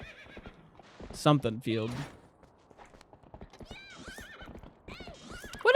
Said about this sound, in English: Why don't we get our little horsey and go check out the